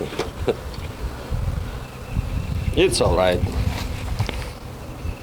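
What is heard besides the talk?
honeybees buzzing at an opened hive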